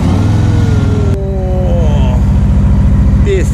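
A Harley motorcycle engine revs loudly up close, a steady deep idle swelling into a brief throttle blip, with the rumble continuing under a voice.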